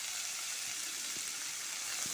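Chopped onions, with green chillies, cinnamon and cloves, sauté in a pan for mutton kulambu, giving a steady close hiss of frying with a couple of soft stirring knocks, no voices.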